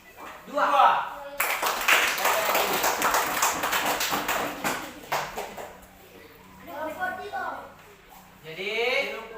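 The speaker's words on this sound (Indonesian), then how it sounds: "Tepuk tangan dulu untuk kelompok" A classroom of students claps for a group, a burst of rapid clapping that fades after a few seconds, with a teacher's voice before and after.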